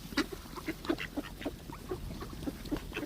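Ducks and geese by a river give a run of about ten short nasal quacks, some doubled, at a moderate distance over a soft outdoor background, with no talking.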